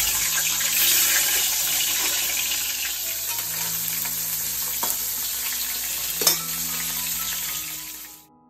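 Spiced vegetables stir-fried in a pan for a Lakshmi Puja offering, giving a steady close sizzle with a few scraping stirs and clinks, no talking.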